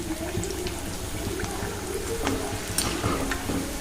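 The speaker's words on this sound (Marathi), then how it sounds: "छान असा गोल्डन कलर येईपर्यंत तळून घ्यायचे" Round, crispy bhaji fritters bubble in hot oil with a steady, close crackle and a few sharper pops and stirring clinks, with no talk.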